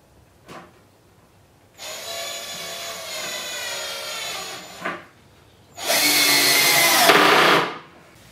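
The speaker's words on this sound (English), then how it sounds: "now that we drilled all the screws in" A power drill drives screws into a wooden cornhole board in two loud bursts, a longer whining run followed by a shorter, harsher one, with brief clicks between them and no talking.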